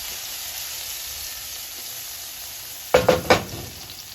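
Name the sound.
garlic and red peppers cooking in a pan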